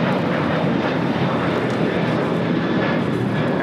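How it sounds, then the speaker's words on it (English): A United Airlines Boeing 737-800 in Star Alliance livery taking off at LAX, its jet engines a loud, dense, unbroken roar filling the whole stretch. "797 taking off to Los Cabos on a 737-800 Star Alliance livery."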